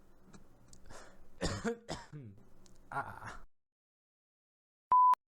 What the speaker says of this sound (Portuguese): Evitem tossir com a clavícula quebrada, crianças.